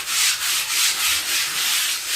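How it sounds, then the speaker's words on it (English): Sandpaper rubbed lightly by hand across a filled wall being prepared for wallpaper, a steady, close, rhythmic scratching in repeated back-and-forth strokes with no talking. "Just run a sandpaper over it lightly."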